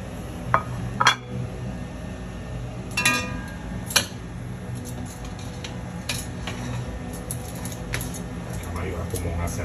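Spaghetti with zucchini being served onto a small plate, with a few clear utensil clinks and scrapes against dishware early on, then quieter handling, under a person's talk.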